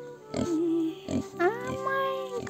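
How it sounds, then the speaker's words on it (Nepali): A pig in a village gives several short, close grunts and oinks, spaced apart, while a person's voice calls out over them. "हाई सुँगुर"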